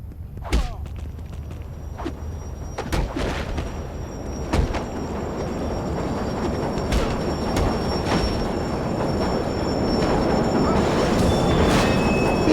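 A subway train rumbles past on the tracks of a PS2 wrestling game arena, a steady rolling roar that builds toward the end, with sharp impact thuds and clanks from the fight scattered over it.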